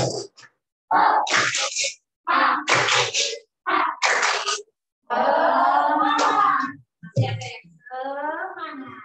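A class of children doing a rhythmic group clapping chant, sharp bursts of claps in short patterned sets with a break between them, followed by a teacher's voice talking.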